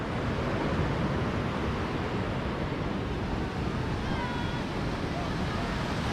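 Sea water washes up on a beach in Da Nang, Vietnam as a continuous broad rush of surf mixed with wind buffeting the microphone, steady and fairly loud with no clear breaks.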